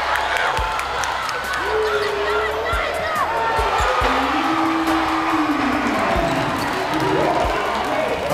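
Crowd in a college basketball gym at an HBCU game roars after a go-ahead three-pointer, a loud sustained cheer mixed with sneaker squeaks and ball bounces, with a commentator talking over it.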